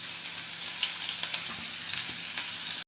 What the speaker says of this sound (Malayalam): ആദ്യം നമുക്ക് ഇഞ്ചി ഇടാൻ കുറച്ച്, ചെറിയ ഉള്ളി ഇടാം, കുറച്ച് കറിവേപ്പില ഇടാം.